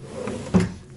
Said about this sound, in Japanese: 引き出しですね。